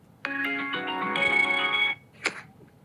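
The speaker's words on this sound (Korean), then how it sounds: "달달보름님 연락 한번 드려볼게요." A phone rings out while a call is placed, one sustained electronic ringtone lasting over a second and a half, followed by a brief second tone, clear and alone in a quiet room.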